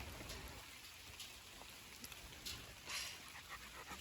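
Steady rain patters outdoors on muddy ground near Dogo Argentino dogs, a dense continuous hiss with scattered brighter drop hits, no talking.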